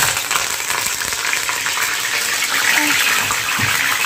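Curry leaves dropped into hot oil in a pan, ahead of onions for a dried fish and egg curry: a loud, bright, steady hiss and spatter of frying close by.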